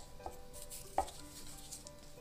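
A knife cuts through a washed cucumber on a board in a home kitchen, with a faint scrape and one sharp, clear chop near the middle, all quiet and close.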